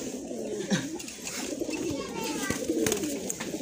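Pigeons coo in soft, low repeated calls close by, with faint human voices in the background.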